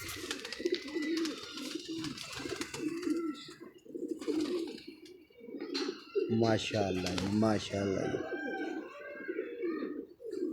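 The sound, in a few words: female black pigeon cooing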